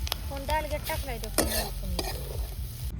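Dried fish and onion fry in a pan while being stirred, scraping and sizzling close by, with a voice speaking over the cooking throughout.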